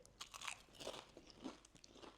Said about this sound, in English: I'm getting tons of crunch.